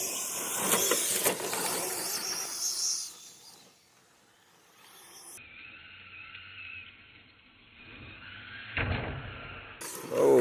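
Losi 10 SCTE 3.0 electric RC short-course truck driving, a loud whirring run up close that fades off into the distance, then swells back and passes near again at the end.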